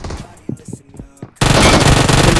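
Groza rifle firing in BGMI (Battlegrounds Mobile India): a few scattered single shots, then a loud, dense, unbroken spray of automatic fire that carries on to the end.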